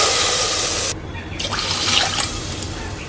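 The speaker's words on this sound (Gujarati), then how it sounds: "હવે હું નાખીશ 2 ગ્લાસ પાણી" Water pours from a glass into a cooking pan for a Gujarati sama (barnyard millet) farali dish. The steady splash and rush runs close and loud through the clip, with no talk.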